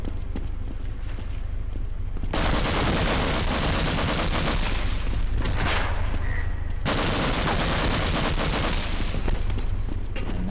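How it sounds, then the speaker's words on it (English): Sustained, loud rapid-fire gunfire from the video game Half-Life, in two long continuous bursts broken by a brief lull, with no talking. "I'm going to shoot this guy."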